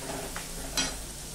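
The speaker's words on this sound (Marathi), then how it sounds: "हे बघा, कांदा मस्तपैकी परतून घ्यायचा आहे।" Onion sautéing in a pan for Punjabi-style aloo baingan sabji, a soft steady sizzle with one brief stir scrape partway through.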